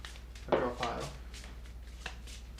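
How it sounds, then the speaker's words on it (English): A deck of Exploding Kittens cards being shuffled by hand, a few quick riffling bursts of card noise against a quiet room background, with faint talk around it. "I'll shuffle this one. I think I shuffle a draw pile."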